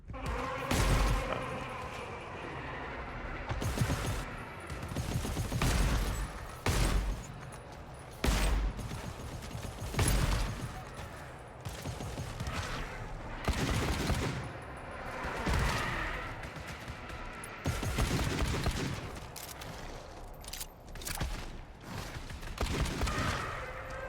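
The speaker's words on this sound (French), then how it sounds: "Je tire." Gunfire in the video game GTFO, repeated loud bursts of shots and rapid fusillades over a long stretch, with some brief voice in the background.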